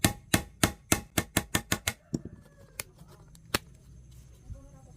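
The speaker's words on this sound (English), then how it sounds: "This keeps your fingers safely away from the nail while hammering." Roughly ten quick, sharp hammer blows ring out in a fast, regular rhythm as a nail held through a plastic jar lid is driven in. A few scattered lighter taps follow.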